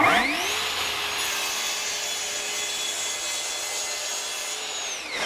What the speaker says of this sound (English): I do a reverse cut with the track saw at 2 millimeters deep in the cut.